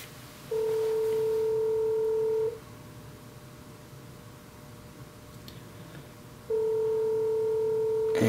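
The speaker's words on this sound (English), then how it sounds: "I'll go ahead and redial using Google Voice" A Samsung Android phone redials a call through Google Voice, giving two long, steady electronic ringback tones separated by a gap of quiet, with a few faint clicks near the end.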